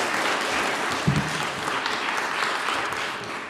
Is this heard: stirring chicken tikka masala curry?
no